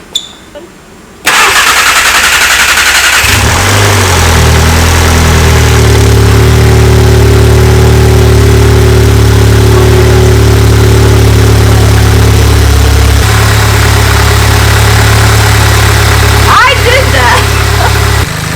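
A VW MK7 Golf R engine, just fitted with a new camshaft, cranks and catches, then settles into a loud, steady, close idle, with some talk over it.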